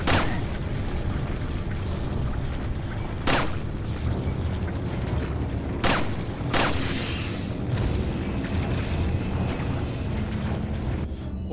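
Booming gunshots in Resident Evil 4 HD, about four loud, sharp reports spaced a few seconds apart over a steady rumbling background.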